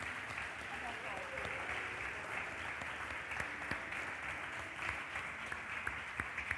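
Church congregation applauding together, a steady, even wash of clapping heard from a distance at low volume, with faint voices mixed in and a few sharper claps near the end.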